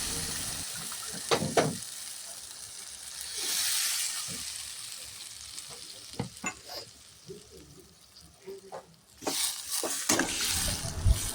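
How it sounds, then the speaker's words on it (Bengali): Hot water goes into a pan of stir-fried snake gourd and potatoes, bringing a few sharp clinks and stirs over a low sizzle before a louder burst of bubbling and hissing near the end. "এবার চিচিঙ্গা আলুর মধ্যে জল যোগ করে দেব।"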